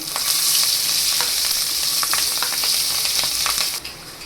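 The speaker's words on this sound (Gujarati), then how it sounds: "પહેલાં મરચાંને નાખીને આપણે બે મિનિટ તેને પકવી લેશું" Green chillies fry with asafoetida in a hot pan with a steady, close sizzle. Faint stirring clicks and scrapes run through it, and the frying drops off abruptly near the end.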